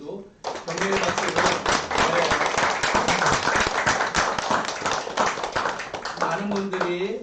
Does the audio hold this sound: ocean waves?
no